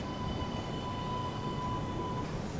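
Steady rumbling ride aboard a Boston Green Line train, a constant low rolling noise with a faint high whine running throughout, no voices.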